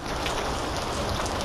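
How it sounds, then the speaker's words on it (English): Steady rain falls outside a house during a storm, a dense, even hiss of drops on hard surfaces, close and continuous without a break. "outside my house and it's raining"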